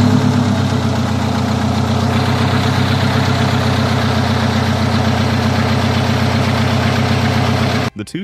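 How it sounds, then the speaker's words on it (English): A Detroit Diesel 8V92 two-stroke diesel engine runs steadily and loudly at a constant idle, a dense rumbling drone that holds for several seconds before cutting off abruptly near the end. "This setup gave the engine its distinctive high-pitched scream"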